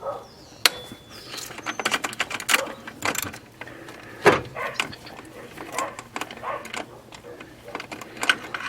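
A socket wrench with a 12mm socket on a long extension ratchets on a bolt during a 1999 Subaru Forester EJ25 boxer engine removal, with a series of uneven clicks and metallic knocks and some low talk mixed in.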